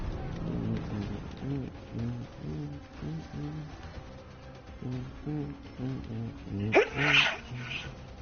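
One sharp, close sneeze bursts out near the end, after several low, hummed voice-like sounds.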